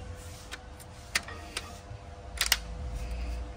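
A steering wheel clock spring lock on a Maruti Brezza snaps into place with a few sharp, close plastic clicks, scattered and then a quick pair near the end, over a low ambient hum with no talking.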